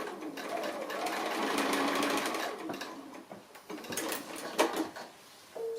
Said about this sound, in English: If you're going to sew across those pins, just take it slowly and carefully.